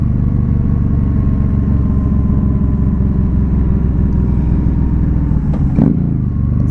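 A 2015 Yamaha V Star 1300 Deluxe SE cruiser engine rumbles steadily in third gear after a downshift, a loud, deep, continuous throb heard up close, with a brief rise near the end.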